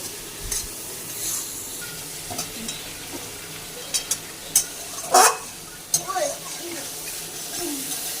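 Spices sauté in a pan for a bottle gourd and shrimp curry, a low continuous sizzle with occasional stirring scrapes and clinks of a utensil, a sharper scrape near the middle.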